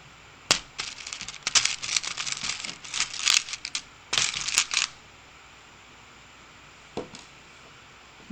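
Pins go through layers of garment fabric, seam allowance and zipper tape in a run of small, close clicks and scratchy rustles, then a pause and a couple of isolated taps.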